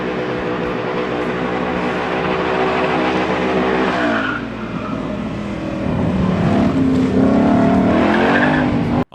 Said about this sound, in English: muscle car with a surround sound exhaust